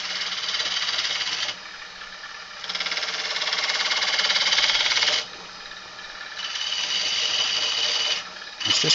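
A woodturning gouge cuts bulk waste wood from a spinning piece on a lathe, making loud, rasping cutting bursts that come and go in several long passes, with quieter gaps between them and no talking.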